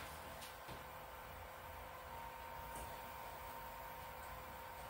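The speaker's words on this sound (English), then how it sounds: "I'm just going to run it through my pump a little bit" A pump circulating hot wort at the end of the boil during a home brew-in-a-bag session of a Belgian white beer gives a steady, even whirring hum with a faint tone, running unbroken and close throughout, with no talk.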